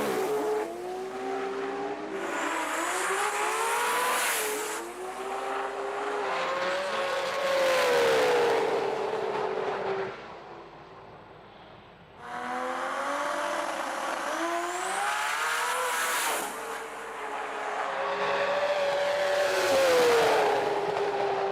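Pro Street GTR drag race cars at the Brisbane Jamboree roar past in two loud surges, engines rising in pitch with tire squeal, each run fading briefly before the next.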